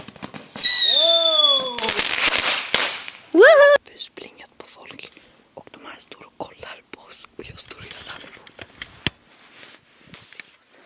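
New Year's Eve firecrackers going off nearby, with sharp bangs and fizzing, whistling bursts early on, followed by scattered smaller pops and crackles while voices talk quietly close by.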